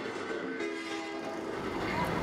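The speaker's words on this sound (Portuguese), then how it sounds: "Eu não sabia que não era o som de um trem de verdade." A recorded train sound plays in an urban sound installation: a continuous rumbling rail noise with sustained horn-like tones, steady and fairly loud throughout.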